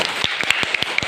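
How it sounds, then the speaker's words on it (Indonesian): Students clap together in a classroom, giving a short burst of several sharp, fairly close claps over about a second, with no talk over it. "Bagus, bisa dikasih tepuk tangan?"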